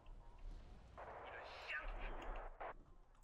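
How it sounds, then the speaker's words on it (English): Incoming mortar rounds landing during a Wargame: Red Dragon battle near a riverbank, a couple of muffled, rumbling impacts a little way off with a brief sharper burst near the end, all over a low background hum. "We got mortars coming in"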